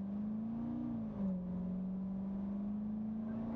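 Corvette C7 on a track at a performance driving school, its engine holding a steady close drone at low speed with a brief dip as it slows under smooth braking, with no talk.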